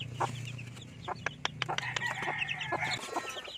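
Rhode Island Red chickens, including a calm mother hen, cluck repeatedly in a backyard with sharp, close calls and a steady hum beneath.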